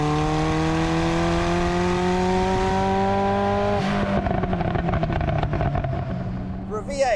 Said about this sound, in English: The sound of this Ferrari is just